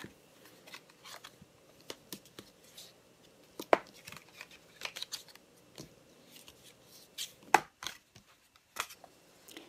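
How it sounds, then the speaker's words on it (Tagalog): Paper is folded along a score line and creased with a bone folder, a quiet scatter of soft scrapes and light crisp clicks at irregular intervals over a near-silent background, with two sharper taps standing out. "Gamit ang aking bone folder sa pagtupi para sa ginawa nating score line kanina."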